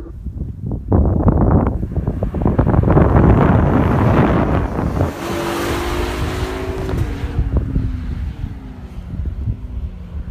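Tesla Model S 90D and Cadillac CT6 3.6 launch side by side in a drag race, a loud rush of engine and tire roar with heavy wind buffeting, then a rising whine that fades as the cars pull away.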